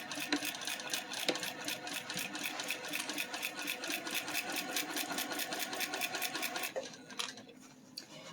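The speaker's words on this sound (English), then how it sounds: "let me just sew up this side and then we'll see how bad it looks" A sewing machine stitches a side seam in a fast, even run of mechanical clatter for several seconds, then stops and leaves a quieter hum.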